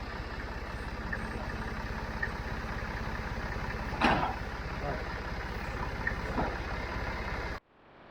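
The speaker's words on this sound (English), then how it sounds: "It's running. Nothing like a 3-cylinder Perkins diesel, an easy starter." A 3-cylinder Perkins diesel engine on a bucket-equipped machine idles nearby with a steady, even low chug and a brief clank partway through, then cuts off abruptly near the end.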